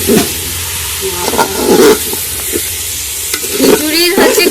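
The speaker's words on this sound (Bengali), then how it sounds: "ওটাকে ভালো করে কষাতে হবে" Broken wheat (dalia) sautéing with spices in a pan for a vegetarian khichuri, loud and close, with repeated scraping stirs over a continuous sizzle.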